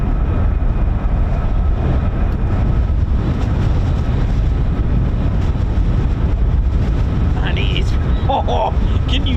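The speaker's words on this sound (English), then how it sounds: "can you hear that wind absolutely ripping through, man?" Strong wind roars across an air base in a steady, unbroken broadband rush, with a few brief higher tonal sounds near the end.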